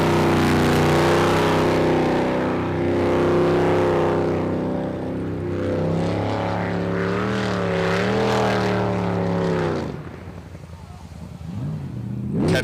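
Racing boat engines roar loudly and rise in pitch at the start of a qualifying run in Port Angeles, a sustained harmonic whine that swells and wavers before cutting away, with an announcer talking over it.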